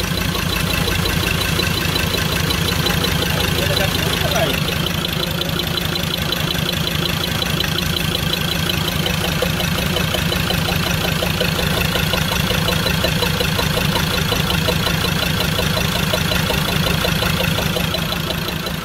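A 2018 Ford Ranger 3.2 engine runs at idle with its cover taken off, a loud, steady close-up rumble with a fast rhythmic ticking texture that holds unchanged throughout, no voices.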